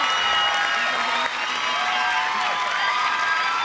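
Studio audience at a Thai game show cheering and applauding for a contestant, a steady, loud wash of clapping, shouts and whoops filling the whole stretch without a break.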